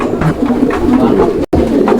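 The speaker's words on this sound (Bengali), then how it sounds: "এখানে আরও এক জোড়া কবুতরের কালেকশন রয়েছে" Pigeons cooing steadily close by at a pigeon market, low throaty calls overlapping with a dense flock murmur, with a brief dropout near the end.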